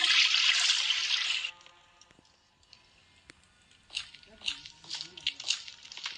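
A toilet flushes in the video game Granny Chapter 3 with a bright, close rush of water for over a second. Quiet clicks follow, then a voice talks.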